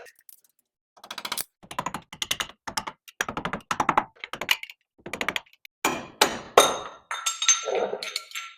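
A hammer strikes a screwdriver in rapid bursts of sharp metallic taps to pry the axle nut cap off a 2000 Chevy Silverado 1500 wheel, loud and close with brief pauses between clusters.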